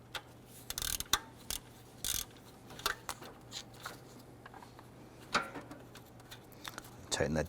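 A nut is tightened on the alternator of a 2012-2017 Toyota Camry 3.5L, giving a series of close, sharp ratcheting clicks and metallic handling noises in irregular bursts, with quiet background.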